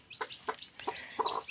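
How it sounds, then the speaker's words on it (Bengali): A hen that has just hatched her first brood clucks softly and close by, with four or five short rhythmic clucks spaced across under two seconds; no voices are heard. "এই প্রথম মুরগিটা বাচ্চা দিয়েছে।"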